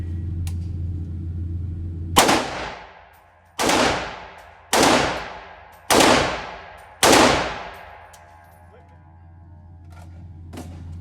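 Five loud rifle shots ring out outdoors, spaced about a second or so apart, each a sharp crack followed by a long rolling echo that fades before the next.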